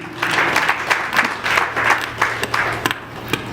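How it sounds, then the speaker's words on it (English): Audience applause for a speaker at an ORAUSA event, a few seconds of steady clapping with scattered sharper claps, moderately close and fading toward the end. "Ladies and gentlemen, Chima, if we give you a round of applause, please."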